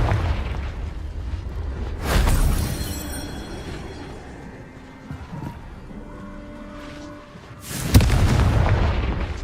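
A Confringo fire spell blasting in the Hogwarts Legacy video game, with two deep booming explosions a few seconds apart over a rumbling game soundscape, loud and close.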